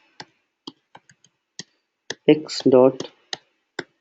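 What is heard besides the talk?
typing on a keyboard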